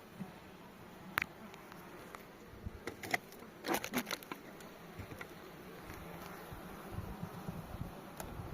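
Honeybees buzz around an opened hive as frames are lifted out, a soft, steady drone with occasional louder passes and light handling knocks close by.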